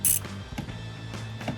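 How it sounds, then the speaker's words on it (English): A part of an S&B cold air intake on a GMC Sierra 1500 snaps into place. It gives one sharp, close click at the start, followed by faint handling noises. "You're going to hear that one click."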